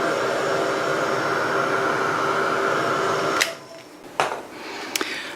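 A heat tool blows a steady loud whirring roar while it heat-sets an embossed card, then cuts off, and a few sharp clicks and handling knocks follow.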